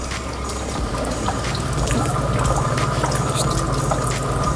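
Water running at a Shinto shrine in Tokyo, a steady close splashing flow with a faint low hum beneath and a background of ambient bustle.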